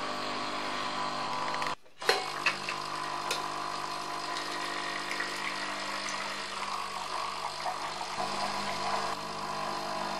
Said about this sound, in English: And let's start grinding a coffee.